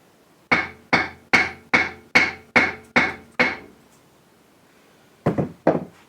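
A geode is cracked and crushed by eight sharp, evenly spaced hammer blows, followed by a pause and three quicker strikes, loud and close with no talk.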